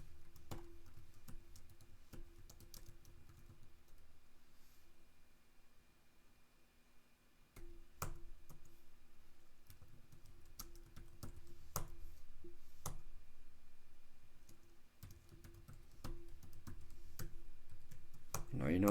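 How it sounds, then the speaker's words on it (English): Code is typed on a computer keyboard in scattered, faint bursts of key clicks against quiet room hiss, with sparse taps and pauses throughout. "So I'll have to type it all out again"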